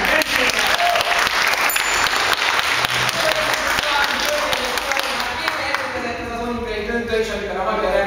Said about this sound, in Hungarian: Szeretnék kérni egy nagy tapsot a magyar reménységnek, Harsány Bencének.